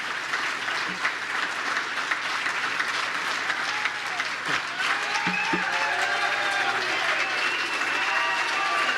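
A crowd breaks into sustained applause, a dense wash of clapping that continues steadily throughout while someone talks over it.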